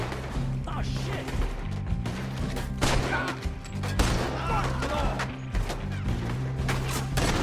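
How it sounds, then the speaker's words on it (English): Gunfire rattles through a shootout in Red Dead Redemption 2, repeated sharp shots and crashes layered over a steady throbbing music bed, with shouting voices mixed in throughout. "They're shooting right at me!"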